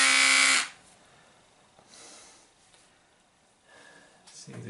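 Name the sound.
Braun Shaver 340 Series 3 electric shaver running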